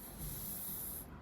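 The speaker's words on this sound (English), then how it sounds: "what can you hear when you open the bottles?" A fizzy drink bottle is opened, releasing a steady, close hiss of escaping gas that holds for about a second before cutting away, with no voices.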